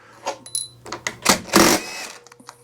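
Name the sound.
DeWalt power tool removing parts from a mower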